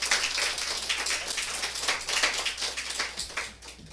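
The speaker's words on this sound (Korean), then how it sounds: "우리 목사님 나오실 때 박수로 환영하겠습니다." Steady applause from a church congregation welcoming a pastor, a dense wash of many hands clapping throughout without pause, fading slightly near the end.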